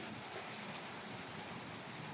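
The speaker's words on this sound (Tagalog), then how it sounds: "Umuulan!" Steady rain hissing down, a dense, even wash of noise with no voices, fairly soft and constant throughout.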